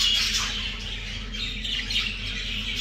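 Brahma chickens calling among other poultry at a breeder's farm, with repeated clucking squawks and chirps at moderate distance over steady background noise, no talk.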